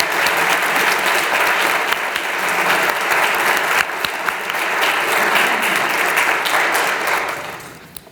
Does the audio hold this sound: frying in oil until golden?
no